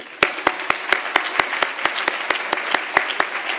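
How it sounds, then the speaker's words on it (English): Audience clapping for panel speakers after a discussion comes as a sparse, steady run of sharp, evenly spaced claps, close and fairly loud, without any talk over it. "another round of applause for our esteemed speakers"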